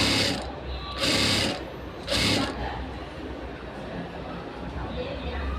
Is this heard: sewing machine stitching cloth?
yes